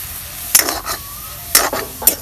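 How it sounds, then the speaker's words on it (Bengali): Green chillies dropped into frying greens in a wok, with three quick bursts of sizzling and scraping stir strokes over a low hiss, close and fairly loud, no talk. "এখন কাঁচা মরিচ দিয়ে দিব"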